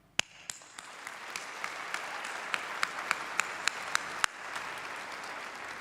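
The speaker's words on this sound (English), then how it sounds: "let's look forward and applaud your accomplishments" Graduation audience at a medical and podiatric school commencement applauds in a steady wash, with several sharp, louder individual claps standing out near the front before it cuts off abruptly.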